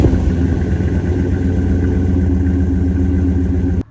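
Exhaust of a 2001 second-generation Dodge Ram pickup still fitted with its original muffler and catalytic converter, running steadily with a loud, deep, constant idle rumble close by, with no talking.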